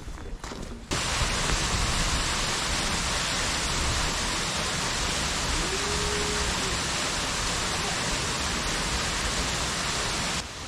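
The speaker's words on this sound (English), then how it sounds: "We're down to the falls." Steady, dense roar of a waterfall along a creek, loud and continuous at close range with no pauses, after a brief muffled start.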